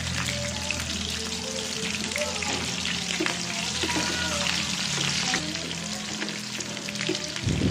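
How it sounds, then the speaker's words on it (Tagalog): Garlic and onion sizzle and fry steadily in a pan for bagoong alamang, with stirring scrapes throughout and a faint voice in the background. "maggisa naman tayo ng bawang at sibuyas"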